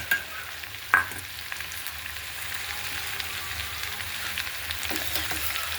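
Okra and capsicum fry in a pan for a mixed vegetable dish, a soft continuous sizzle with scraping stir strokes and a sharp utensil clink early on, close and moderately quiet.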